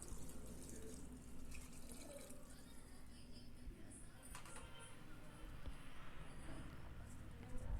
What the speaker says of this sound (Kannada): ಇಲ್ಲಿ 4 ಗ್ಲಾಸಷ್ಟು ನೀರನ್ನು ನಾನು ಹಾಕೋತಾ ಇದ್ದೀನಿ.